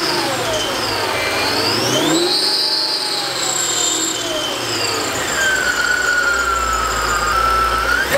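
Supercharged Mercedes E55 AMG wagon with a 72 mm supercharger pulley accelerating, its loud continuous blower whine sweeping up and down in pitch over steady engine roar, close and sustained throughout with no talk.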